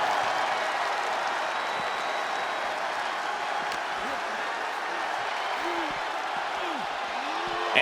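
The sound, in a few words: wrestling crowd cheering in WWE 2K26, video game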